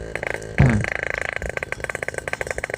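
A motorcycle fitted with an aftermarket Altech C17 exhaust idles close by with a rapid, throaty exhaust pulse after a sharp clunk, its steady popping beat filling the sound.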